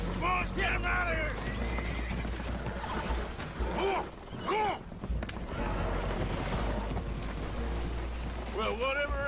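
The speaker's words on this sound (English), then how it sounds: "Horses are spooked, and we're taking on water." Spooked horses in the Red Dead Redemption 2 video game whinny and neigh repeatedly aboard a boat taking on water, several loud cries rising over a constant low rumble and splashing, with game voices talking in between.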